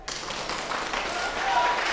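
An audience claps for a new student at a piano battle, a dense, rising patter of hands under a voice that speaks over it.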